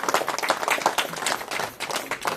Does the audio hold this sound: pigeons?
no